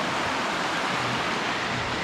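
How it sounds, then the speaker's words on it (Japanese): A river rushes beside a narrow road without guardrails in Akiruno, Tokyo, making a dense, steady roar of flowing water close by with no talk over it. "すぐ川ですよ、ここ。"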